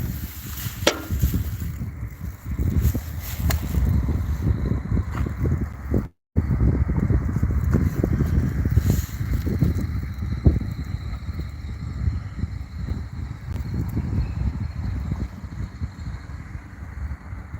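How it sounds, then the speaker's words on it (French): Steady wind gusts buffet the microphone outdoors, a constant low rumbling roar that drops out briefly once, with no one talking. "il y a un peu de vent"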